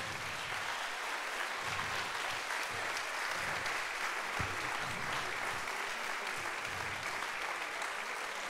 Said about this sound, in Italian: se gli fate un applauso di incoraggiamento